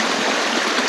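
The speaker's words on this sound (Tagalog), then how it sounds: "dito sa gubat mga kaidol, maraming batis, maraming mga sapa" Forest stream flowing steadily, a close, even rush of water that fills the clip without pause.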